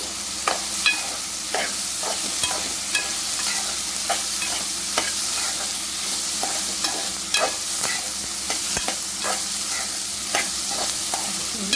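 Broad beans (chikkudukaya) frying in a pan: a steady close sizzle broken by frequent crisp scrapes and taps of a spatula stirring at an irregular pace, loud and clear with no voices.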